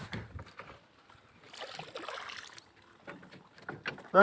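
A wooden rowboat moves on water with faint, intermittent paddle splashes and soft trickling, quiet and fairly close, with gaps between the strokes.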